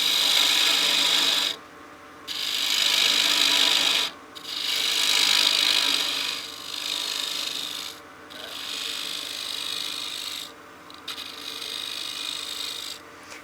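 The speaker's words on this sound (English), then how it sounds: "I'll be using a 1/2-inch spindle gouge to make these cuts now" Half-inch spindle gouge cutting a spinning wooden utility box on a lathe, a loud steady rasping hiss in long passes broken by brief pauses, close and continuous throughout.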